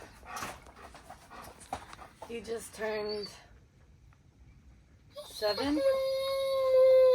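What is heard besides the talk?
German Shepherd dog panting and howling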